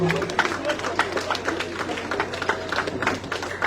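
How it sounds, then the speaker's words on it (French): A crowd at a school centenary celebration claps for young dancers, a dense patter of many hands at a moderate distance, steady and fairly soft, with murmured voices mixed in. "Nous les applaudissons chaudement"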